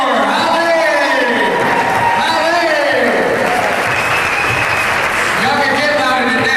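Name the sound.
audience applause for Holly Moore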